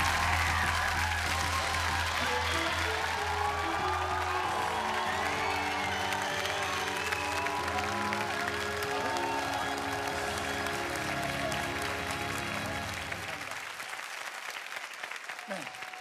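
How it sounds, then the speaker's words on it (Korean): A studio audience at a Korean TV comedy show applauds and cheers steadily over sustained musical tones, the broad clapping wash continuing loudly before thinning near the end. "여러분 큰 박수를 부탁드리겠습니다"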